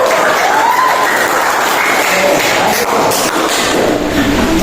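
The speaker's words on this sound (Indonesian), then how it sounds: "Kasih tepuk tangan bersama." A class of students applauding together in a classroom lesson, loud continuous clapping that holds steady throughout with a little room noise mixed in.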